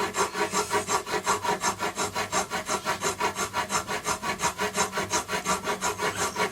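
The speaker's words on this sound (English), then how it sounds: "bring it down with the nut fret to where I feel it's right" A bone nut for a Yamaha FG836 acoustic guitar is filed down with a nut file in steady rapid back-and-forth rasping strokes, loud and close, with no talk.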